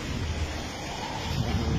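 Heavy rain pours steadily into a courtyard during a strong storm in Russia, making a continuous dense hiss with a low rumble and no distinct breaks.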